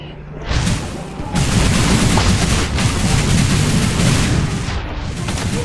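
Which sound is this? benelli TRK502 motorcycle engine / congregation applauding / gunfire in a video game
gunfire in a video game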